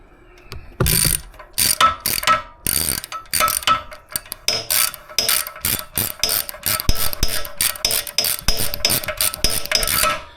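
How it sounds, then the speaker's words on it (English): Ratcheting wrench snugging a fitting on a Coleman B200 stove, close-up, with quick bursts of clicking strokes in an irregular rhythm, some louder metallic scrapes between them, and no talking. "Get a wrench. Just kind of snug it."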